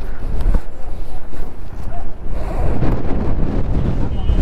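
Strong gusts of wind buffet the microphone outdoors in Jomsom, Mustang, making a loud, rumbling, uneven roar throughout.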